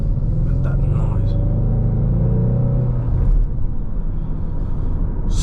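A 2025 Ford Mustang convertible with the top up, heard from inside while driving: a loud, deep, steady engine rumble with a brief swell of revving, under a voice speaking.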